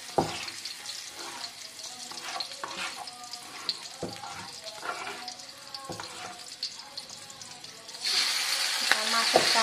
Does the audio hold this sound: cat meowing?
no